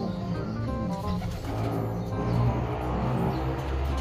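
Low, soft cooing from a pigeon repeats close by, gentle throaty calls over a faint background hum.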